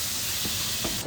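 Sherry cooking wine hits a hot pan with a loud, steady sizzling hiss that fills the whole moment, close and bright, with a brief clatter near the end.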